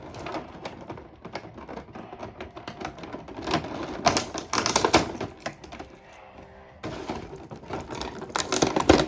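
Sellotape is peeled off the box of a Mondo 1:6 scale Masters of the Universe Teela figure: close, crackly ripping bursts in uneven stretches, with a short lull before a final loud tear.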